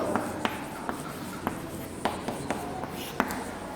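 Chalk or marker tapping and scratching on a board during a chemistry lesson on carbon and its compounds, a series of short sharp strokes in irregular rhythm over quiet room noise.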